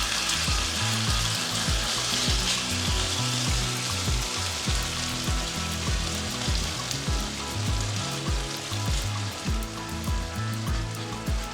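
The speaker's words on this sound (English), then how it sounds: "Place the potatoes evenly in the pan." Diced potatoes fry in a pan for an easy breakfast, giving a steady, close sizzle and crackle that runs throughout over background music.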